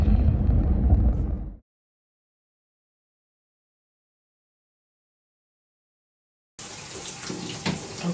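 Shower water runs in a steady hissing rush, cuts off abruptly into several seconds of silence, then resumes with a brighter, splashing spray.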